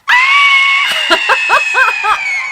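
Loud, close screaming from someone dressed as Freddy Krueger at Halloween, one sustained shriek followed by a run of short, rising screams and shrieky laughs.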